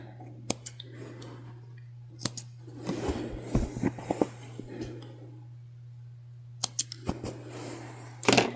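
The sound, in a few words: scissors cutting extra threads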